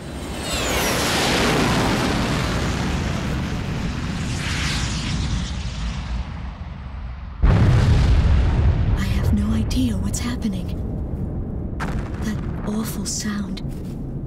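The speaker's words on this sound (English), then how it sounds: "Was that a blast of wind from an explosion?" A deep explosion roars at the start of the Ace Combat 6 video game mission, fading slowly. Then a second sharp blast hits, followed by rumbling and crackling debris that continues to the end.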